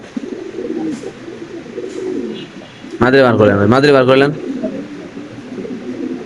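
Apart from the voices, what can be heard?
Lahori pigeons cooing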